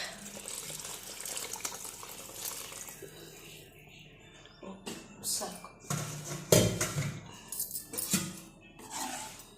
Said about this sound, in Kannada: ಹಾಲು ಹಾಕ್ತಾ ಇದ್ದೀನಿ